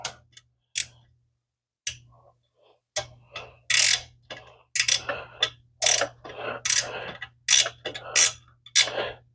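A ratchet tightens motor mount bolts on an NB Miata, giving close, crisp bursts of rapid clicking separated by short pauses, with a faint steady hum underneath.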